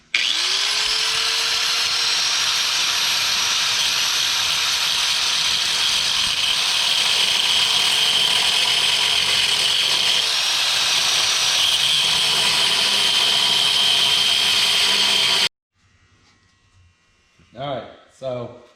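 A power tool grinds steadily, close and loud, as it cuts out welds on a RZR XP Turbo bashplate. The whine holds for about fifteen seconds and then stops, leaving a quiet room where a voice speaks briefly.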